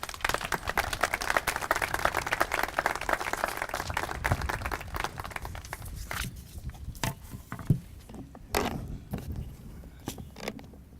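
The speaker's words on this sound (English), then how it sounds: "A round of applause," Audience applause at a school International Day of Peace celebration, dense clapping from a crowd that swells and then thins into scattered claps, with a few footsteps and faint voices near the end.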